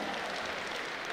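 Audience applause at a comedy show: dense, steady clapping from many hands in a crowd, with no gaps across the short stretch.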